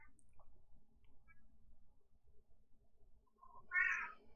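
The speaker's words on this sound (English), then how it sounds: "Don't know where the cat noise came from." A cat lets out a single short meow near the end, clear and mid-loud, after a few seconds of faint low rumble and scattered small clicks.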